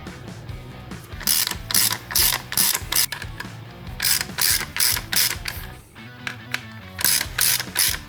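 Rapid bursts of ratcheting clicks tighten the fan mounting screws on a motorcycle, coming in short, regular strokes at close range with brief pauses between them.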